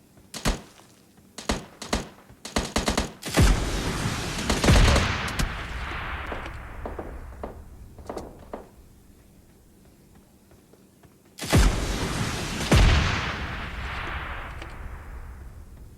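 Gunfire in the mobile shooter PUBG Mobile Lite: a run of sharp close shots in quick bursts, then two heavier blasts whose loud echoing tails fade out, with a second pair of heavy shots near the end.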